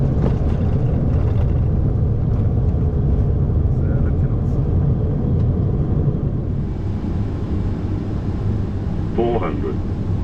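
Loud, steady low roar of an Airbus A330 decelerating hard on a short runway after touchdown, broadband cabin rumble sustained throughout with brief cockpit voices and a chime near the end.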